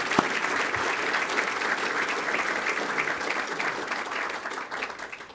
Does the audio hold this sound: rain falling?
no